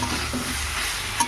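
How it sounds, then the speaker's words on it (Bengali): Spices and fried potatoes for a soybean and potato curry sizzle in a pan with a soft stirring scrape, a short, steady frying hiss heard up close. "মশলাটা কষিয়ে নিয়ে তার মধ্যে এই যে আলুগুলো দিয়ে দিলাম"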